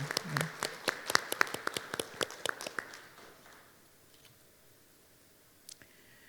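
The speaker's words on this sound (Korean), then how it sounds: "모두 박수로 환영해 주셨으면 좋겠습니다." A small audience at a conference opening ceremony claps briefly, a few sharp, distinct claps spread over about three seconds, then near silence with one faint clap near the end.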